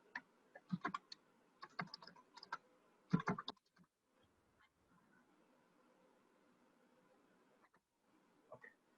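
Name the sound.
typing text on a computer keyboard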